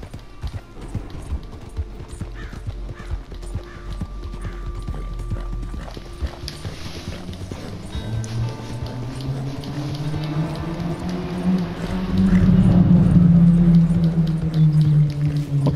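Horse hooves clip-clopping at a steady riding gait in Red Dead Redemption 2, a continuous rhythmic patter close up, joined by a low droning tone and a faint voice in the later seconds.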